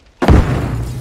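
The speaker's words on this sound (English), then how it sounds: "I heard a fucking explosion." A single sudden explosion in the video game Arma Reforger bursts out after a short silence, a heavy low boom that lingers and rumbles on.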